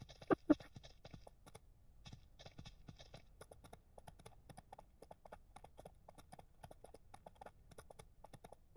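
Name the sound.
horse hooves clip-clopping in the video game Ranch Simulator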